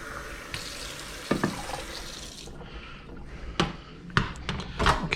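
Hot water runs from a tap and fills a container for cooking clams, a steady faucet stream followed by a few sharp knocks and clatters of handling nearby.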